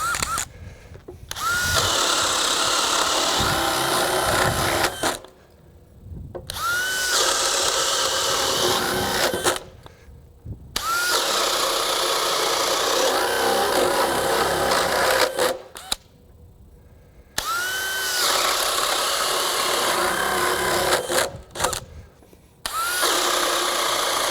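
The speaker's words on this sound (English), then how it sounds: "Let's just do some holes through here and see what happens." DeWalt cordless drill with a Powerstack battery boring holes in cold conditions, four long loud whirring bursts that each rise in pitch as the motor spins up, separated by brief quiet pauses.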